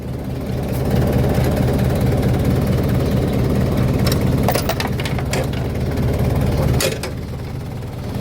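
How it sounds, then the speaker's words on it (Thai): Engine of a used Hino FC six-wheel dump truck, revved up while parked, a steady loud diesel drone with a low rumble that swells, holds, then drops back to idle near the end. "เบิ้งเครื่องนะครับ เครื่องยนต์ นิ่มๆเลยนะครับ"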